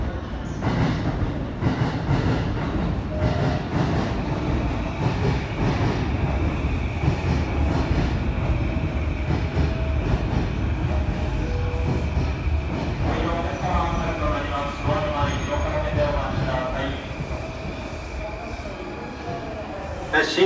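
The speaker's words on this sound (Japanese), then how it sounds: "12番線ご注意ください。 快速八王子行き到着です。" A JR Chuo Line rapid train bound for Hachioji rumbles into platform 12 at Shinjuku Station with rhythmic clacking wheels and a brief squeal, while a station announcement plays over it.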